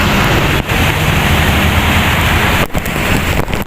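Heavy rain pours steadily near Congressional Avenue, a loud, dense roar with no voices, briefly dipping twice.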